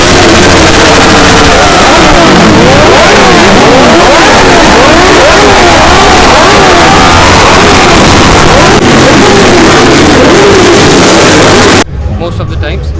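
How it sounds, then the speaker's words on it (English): Superbikes, including a Kawasaki Z800 and Benellis with free-flow exhausts, rev hard at a superbike festival in Pune, a loud, continuous roar of rising and falling throttle blips from several machines that cuts off near the end. "especially what we do is we throttle the bikes"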